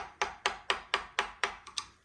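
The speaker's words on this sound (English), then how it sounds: "I'll use my screwdriver and hammer here" A hammer strikes a screwdriver to tighten an HEQ5 Pro telescope mount, giving eight sharp metallic taps in an even rhythm, close and clear, the last two lighter and quicker.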